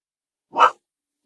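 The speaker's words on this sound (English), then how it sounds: "I guess we'll just let her bark." A single short, sharp bark from a female dog, close and loud, standing alone against silence.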